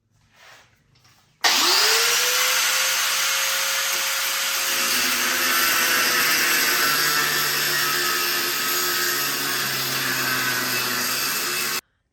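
An angle grinder cuts through sway bar end links during a Clayton Off Road 2.5-inch Overland+ lift install: after a short pause it starts up loud and close, then holds a steady, high, whining grind for about ten seconds before stopping abruptly.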